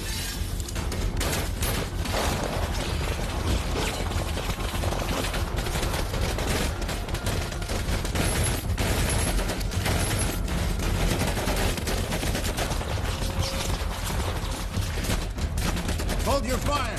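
A volley of rifle fire, many guns shooting at once, makes a dense, sustained clatter of overlapping shots that runs throughout the clip, with voices shouting now and then among the gunfire.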